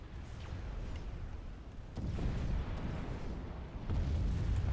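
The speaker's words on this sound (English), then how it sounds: "That's a little bit of artillery fire." Artillery fire in the real-time strategy game Supreme Commander, low distant booms swelling over a constant rumbling battle din, with heavier thuds about two and four seconds in.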